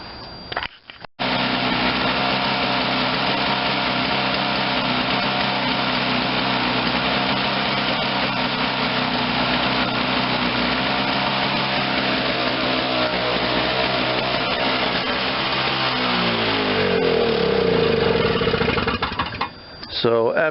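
A Toro CCR 2450 snowblower with a 5hp R-Tek engine, cold from sitting outside and leaking gas, starts on the first pull and runs at a steady high buzz, close and loud, before it winds down at the end.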